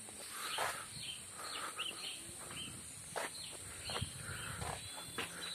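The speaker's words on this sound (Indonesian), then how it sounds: "Sini tuh masih banyak suara burung." Birds chirp and call intermittently in a hillside forest in Aceh, Indonesia, over a steady outdoor background, distant and fairly faint, with scattered rustling.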